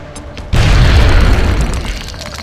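A grenade detonates in the strategy game XCOM: Enemy Within, a sudden loud boom whose deep rumble fills the rest of the moment and slowly fades.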